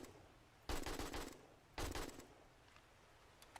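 Gunfire in the zombie survival game 7 Days to Die: two loud, dense bursts of rapid shots, each lasting about half a second to a second, separated by a short pause, with no talking.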